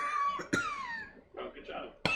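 A person imitates a smoker's cough with a few harsh, raspy vocal bursts separated by short pauses, close and fairly quiet.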